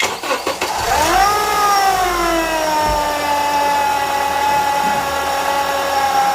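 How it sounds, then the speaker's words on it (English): A car engine cranks and fires, then runs at a steady idle with a whining tone that slowly settles lower, loud and close. "So let's start the engine here."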